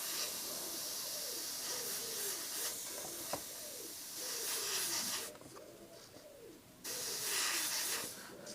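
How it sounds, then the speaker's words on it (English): Bursts of hissing airbrush spray as paint is applied to a monochrome portrait, loud and close, cutting off briefly and resuming, over a faint background of cooing birds. "Just hold that shield up and just spray off that shield."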